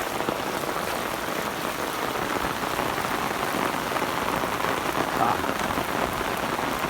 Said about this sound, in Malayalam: നല്ല കിടില മഴയാ കേട്ടോ.